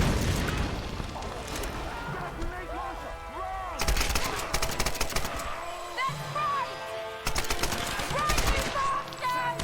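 A rifle fires in the action video game Tomb Raider (2013), loud bursts of gunshots arriving in two heavy volleys with explosive rumble between them, while someone talks over the action.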